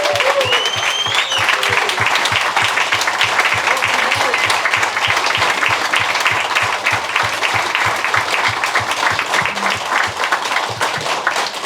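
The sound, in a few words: round of applause for veterans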